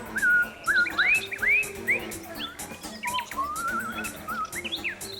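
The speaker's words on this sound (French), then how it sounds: "Félix, Il émet un chant extrêmement mélodieux de jour comme de nuit, d'où peut-être son nom de Nightingale en anglais" A nightingale sings a varied, melodious run of clear whistles, rising slurs and chirps, close and fairly loud, with short pauses between phrases over light background noise.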